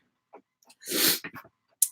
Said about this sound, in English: thank you for blessing me when I sneezed